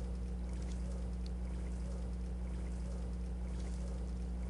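Soapy water churns and swishes steadily inside a dishwasher in a video game furniture mod as a sword is washed, a continuous sloshing wash with low mechanical hum and no voices.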